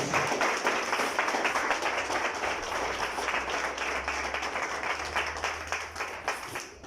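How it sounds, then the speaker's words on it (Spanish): Congregation clapping in praise during a church sermon, a sustained, even round of applause with a rhythmic pulse, moderately loud and without talk. "Denle un aplauso al Señor, el Espíritu de Dios."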